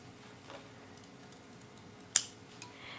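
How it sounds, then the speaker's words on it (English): Scissors snipping the corners of sewn fabric near the stitching for a tote bag, one sharp close snip standing out from quiet room tone, followed by a fainter second cut. "Now I'm going to snip the corners, being careful not to cut into my stitches"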